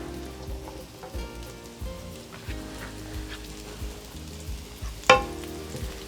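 Chard stems and leaves frying in oil in a pan, a steady close sizzle with soft crackles and a sharper clatter or stir near the end, no voices.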